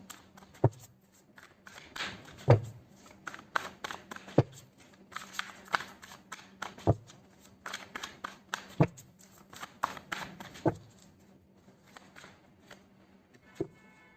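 Tarot cards are shuffled at close range in a steady run of papery riffles and soft slaps, with sharper taps recurring every couple of seconds and no voice.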